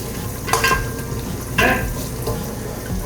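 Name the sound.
butter melting and sizzling in a pot while stirring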